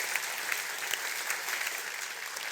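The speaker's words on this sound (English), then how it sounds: "Can we have a huge round of applause for Paul Shepherd?" Steady, dense applause from a crowd, a continuous wash of clapping with no voices over it.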